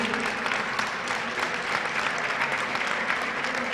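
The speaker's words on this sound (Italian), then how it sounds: "chiedo un grosso applauso" Spectators at a baskin basketball tournament give the referee a continuous round of applause, an even wash of clapping heard at a distance and fairly quiet throughout.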